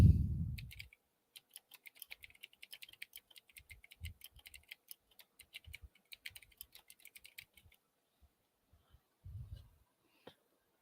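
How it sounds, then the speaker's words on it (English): Quick, light keystrokes on a computer keyboard in bursts of rapid clicks with short pauses, close and quiet, with a couple of soft thumps at the start and near the end. "I'm typing something up real quick."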